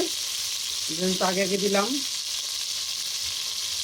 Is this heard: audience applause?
no